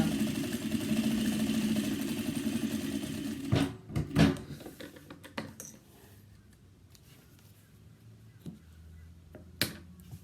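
A sewing machine stitches down the sides of a pocket on a cross-body bag, a steady mechanical whir for a few seconds that stops abruptly, followed by scattered clicks and handling noises in a quiet room.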